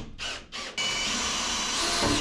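Two short bursts from a power drill, then a sustained high whine as a screw is driven into drywall, loud and close.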